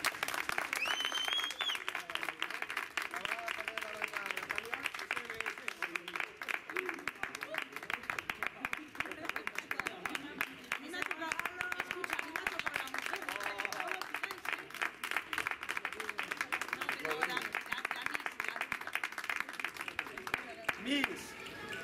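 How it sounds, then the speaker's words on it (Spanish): Audience applause at a Spanish town festival event, the opening of a peña's chamizo, greeting a newly sashed Mister Juvenil; steady clapping runs throughout, fairly distant and sustained, with a voice over it. "Ese aplauso para Gonzalo Abad Pascual"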